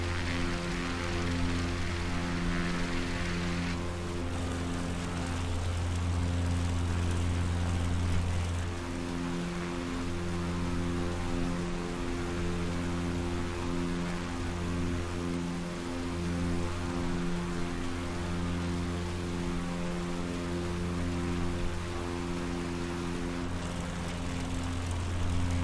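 A Husky A1-C propeller plane in Microsoft Flight Simulator 2020 drones steadily over Tasmania, its engine hum holding constant with small shifts in tone, loud and close throughout with no talking.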